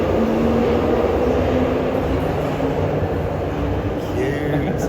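A Glasgow Subway train approaches the platform with a steady rumble and rolling rail noise that holds loud and even, with a faint high whine toward the end and a voice speaking over it.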